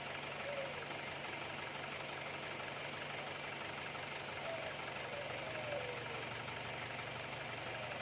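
A warm 2001 Isuzu Panther LS diesel engine idles with a steady, low, faintly knocking hum that stays even and continuous from close by.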